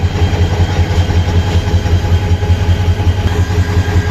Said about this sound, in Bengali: প্ল্যাটফর্মে ঢুকে গেছে যমুনা এক্সপ্রেস ট্রেন